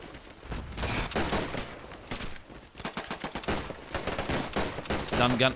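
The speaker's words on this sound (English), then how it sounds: "Sten gun in action together with the Lee Enfields, who are at a great disadvantage against the M1 Carbine and M1 Garand" Video game gunfire in a British attack on Foy: Sten gun bursts mixed with Lee Enfield rifle shots against M1 Carbines and M1 Garands, dense overlapping cracks and rattling volleys at varying distances.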